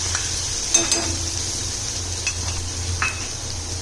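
Cumin seeds crackle and sizzle steadily in hot oil, close up, with a few light clinks of a spoon stirring the pan.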